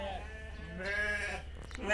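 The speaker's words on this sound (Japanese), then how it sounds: "羊さんですかね" Sheep bleat at a petting farm in Biei, Hokkaido, where livestock graze in the pasture. A few drawn-out bleats rise close by under steady talking.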